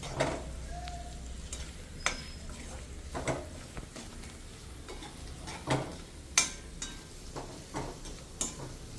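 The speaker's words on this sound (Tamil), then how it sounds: "டோஃபுவை எண்ணெயில் நன்றாக வணக்கிக் கொள்ளவும்." Tofu is sautéed in oil and butter in a pan. A soft background sizzle runs throughout, broken by about a dozen scattered clicks and scrapes of stirring, each one close and fairly quiet.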